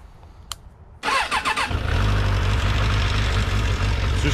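A car engine is cranked and catches after a brief whir, then settles into a loud, steady close-up idle. A faint click comes just before the start.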